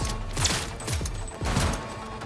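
Heavy guns fire in Cyberpunk 2077: Phantom Liberty, with dense overlapping bursts and sharp reports across a noisy combat mix, loud and continuous with a brief dip before the shooting resumes.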